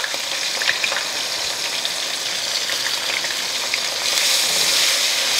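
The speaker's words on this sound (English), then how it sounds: "Fish is frying gorgeously, and I'm going to add in here now my sliced shallots." Fish and sliced shallots frying in hot oil for Ghanaian street-style kwenkwen, giving a steady, loud, dense sizzle with fine crackling pops throughout, swelling a little near the end.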